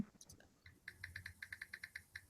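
Typing on a computer keyboard, a faint run of quick light clicks in an uneven rhythm, distant and quiet in the background.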